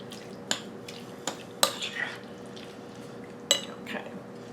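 Cherry pie filling being stirred by hand, with a spoon knocking sharply against the bowl several times among softer wet scraping, close and moderately quiet.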